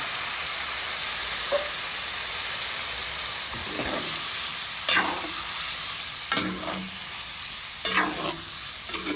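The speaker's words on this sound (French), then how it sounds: "Je mets un peu d'eau dedans pour que ça cuise, la viande cuise" Pork with mushrooms cooking in a pan after water is added, a steady close bubbling sizzle and hiss broken by several scraping stirs of a utensil.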